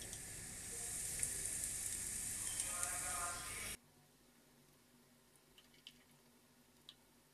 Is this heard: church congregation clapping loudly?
no